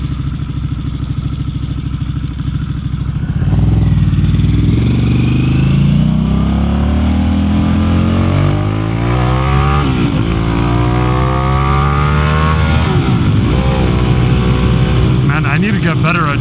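A Harley-Davidson Pan America ST with a Toast aftermarket exhaust roars loudly as it revs and pulls through the gears, engine pitch climbing and dropping repeatedly, with a rider talking over it.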